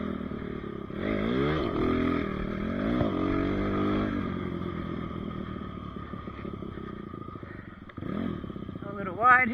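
A Kayo K-6 R dirt bike fitted with a 300cc kit rides along, its engine droning and rising and falling in pitch through revs and shifts, steady and fairly close, with a brief blip of acceleration near the end.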